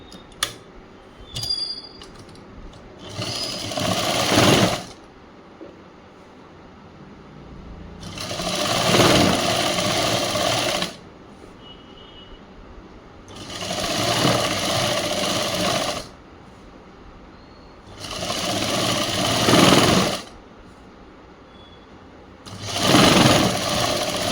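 A sewing machine stitching a government school uniform chudi top runs in five distinct bursts of steady whirring, each several seconds long, separated by short quiet gaps; no one speaks.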